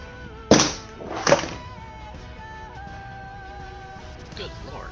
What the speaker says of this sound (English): That was the pebble exploding.